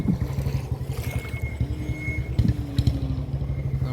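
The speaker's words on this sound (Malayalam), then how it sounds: "ബോട്ട് കരയ്ക്കടുത്ത് കഴിഞ്ഞ്" A motorboat nears the shore on a tour, its engine a steady, close, low drone that throbs continuously with slight swells in loudness.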